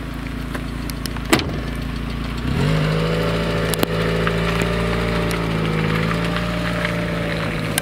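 A nearby car engine runs at a steady idle-like hum, with a sharp knock early on, then rises in tone as the car pulls away and keeps droning on with no talking.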